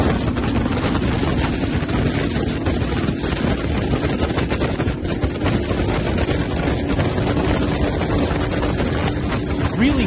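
A 47-foot Reaper powerboat driven by five 150-horsepower outboard engines races across open water, a dense, continuous roar mixed with heavy wind rush, loud and unbroken throughout.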